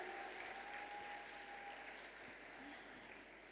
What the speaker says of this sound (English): Can I have another big round of applause for Saadia Ma'ruf,